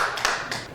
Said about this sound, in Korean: 격려의 박수 한번 부탁드립니다